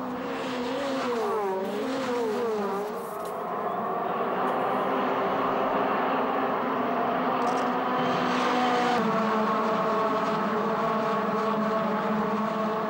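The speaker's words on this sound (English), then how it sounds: "Jean-Philippe Bournot attacking Despenas down the start, finished straight and taking the lead" Renault Clio Cup race cars scream past on the Dijon-Prenois circuit, a dense layer of high-revving engines rising and falling together, loud and continuous, with one car's pitch dropping as it shifts midway.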